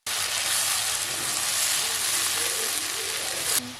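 Tomatoes and spices fry in a hot pan for a crispy okra (bhindi) salan, a loud continuous sizzle and hiss running steadily throughout with faint stirring underneath.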